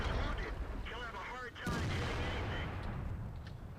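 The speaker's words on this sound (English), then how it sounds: "artillery has missed" Artillery fire in the World of Tanks video game: a single sharp boom lands mid-clip amid rumbling battle noise, with a player talking before and over it.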